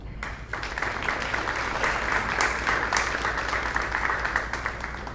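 Steady crowd applause fills a school hall at a National Junior Honor Society induction as a student is called forward. The clapping starts almost at once and stays full and even for about five seconds.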